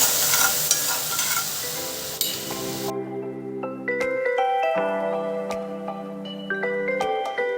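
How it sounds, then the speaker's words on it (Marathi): Sugar and water caramelizing in a pan sizzle hard while stirred for about three seconds, then the sizzle stops abruptly and soft tonal chimes carry on. "आपल्याला साखर कॅरेमल करून घ्यायची आहे"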